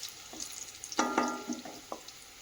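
Onions and cinnamon dropped into a hot oiled pan, giving a few sharp crackling bursts and a soft steady sizzle, close and fairly quiet, with no talking.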